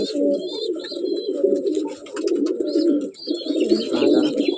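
Paired breeding pigeons kept at a home loft coo and murmur in a steady, close, continuous stream, with small chirps and rustles above and brief dips in the calling.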